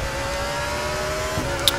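A car engine hums steadily in the racing video game RaceRoom Racing Experience, holding a constant pitch with slight revving and a brief click near the end.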